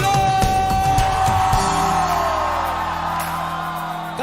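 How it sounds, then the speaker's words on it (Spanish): A church congregation shouts and whoops with joy together, a loud, dense crowd of overlapping yells that swells at first and then gradually eases over about four seconds while a sustained tone rings beneath. "Ahora griten de júbilo."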